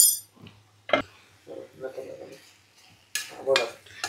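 A spoon scrapes and clinks against a pan while chopped cashews are stirred into carrot halwa, a few separate knocks and scrapes, with someone talking softly in between.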